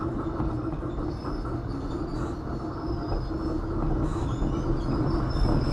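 A retro Taisho-era electric train on the Kotoden Kotohira Line runs across the Sanuki plain up a 25 per mil gradient, a steady loud rumble of wheels and motors that swells slightly near the end, with no talk.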